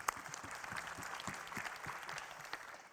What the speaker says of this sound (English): Give him an applause too.